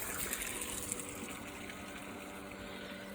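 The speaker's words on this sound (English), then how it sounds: "we'll use the bilge pump just to pump it out" A bilge pump draws water out of a narrowboat's engine bay, producing a steady, continuous liquid-pumping whoosh with a constant low hum and no voices.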